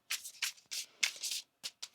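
A tarot deck being shuffled by hand, close and crisp, in a quick series of riffling bursts separated by short pauses, with no voices over it.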